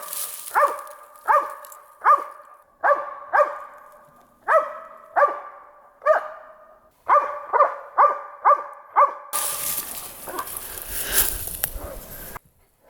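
A sable-hunting dog on a bear hunt barks in a loud, close series of about a dozen sharp, evenly spaced barks, followed by a burst of harsh rustling noise.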